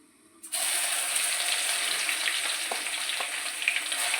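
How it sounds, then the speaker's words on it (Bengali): Crushed garlic dropped into hot oil with cumin and whole garam masala, bursting into a loud, close, continuous sizzle after a quiet start, with occasional stirring clicks. "তো দিয়ে দিলাম সেটো করে রাখা রসুনটা একটু নাড়িয়ে নেব"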